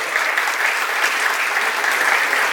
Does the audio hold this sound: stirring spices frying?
no